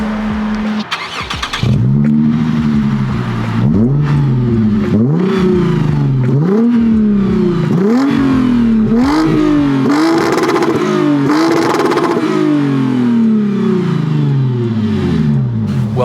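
A Lexus IS350 V6 fitted with blast pipe exhausts revs repeatedly, loud and close, each blip climbing and falling in a rhythmic series of about eight throttle pulls over a steady rumbling idle, with no talking.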